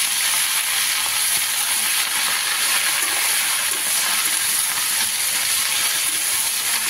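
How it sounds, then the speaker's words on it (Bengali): Garlic cloves and green chillies sizzle steadily in hot oil, a loud, continuous hiss that holds evenly throughout with no voices. "এবার তেলের উপরে দিয়ে দেবো কয়েক কোয়া রসুন আর কাঁচা লঙ্কা"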